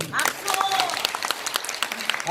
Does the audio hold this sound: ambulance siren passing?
no